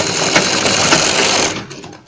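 An electric sewing machine stitches cloth piping in a rapid continuous whirring run for about a second and a half, then stops abruptly, close and loud with no talking.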